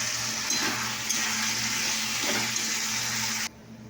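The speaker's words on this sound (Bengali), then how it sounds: "এখানে জল ঢেলে দিয়েছি।" Water poured into a hot cooking pan with fried bitter gourd and brinjal, giving a loud, steady hiss and rush that runs close up for over three seconds before cutting off abruptly.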